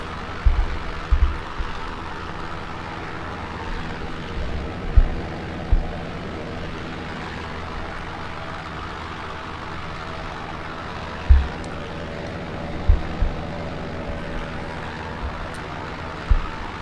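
Low, steady propeller drone of a DHC-1 Chipmunk making a low pass over an aircraft carrier deck in the X-Plane 11 flight simulator, a continuous engine hum with a few brief thumps along the way and no talk.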